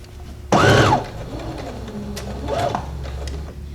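A sewing machine stitches a shoulder seam on a men's shirt, with a loud, quick burst of mechanical whirring followed by quieter motor hum and a second, softer run of stitching, close up.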